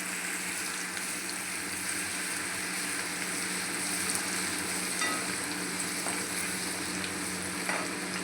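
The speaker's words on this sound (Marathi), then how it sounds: "लसूण चांगला तेलावर त्याचा मस्त फ्राय करायचं" Garlic fries in hot oil in a tempering of mustard seeds and cumin for an aloo tamatar sabzi: a soft, continuous hiss with faint crackles, steady and unbroken, with no speech.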